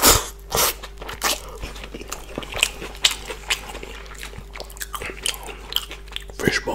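Close, crisp biting and chewing of soft fish balls eaten with rice, with moist crunches and mouth sounds repeating at an uneven, steady pace.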